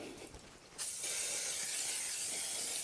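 After a quiet start, a loud steady hiss of an aerosol cleaner spraying continuously for a couple of seconds, close by, onto the brake parts of a 2010 Toyota Corolla.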